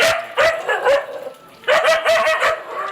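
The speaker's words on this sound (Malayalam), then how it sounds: "ഇവിടെ ഏകദേശം ഒരു 40ൽ കൂടുതൽ പട്ടികളുണ്ട്." Several dogs bark in loud, repeated bursts at a house holding about forty dogs, with two clusters of sharp barks and yips close by.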